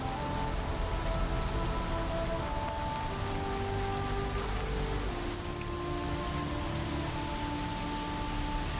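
Steady, dense rain falls in the video game Horizon Zero Dawn, a loud continuous hiss with faint tonal game sounds held underneath and no one talking.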